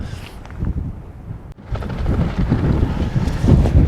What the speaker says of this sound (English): Tarpaulin's just going for it, roaring away.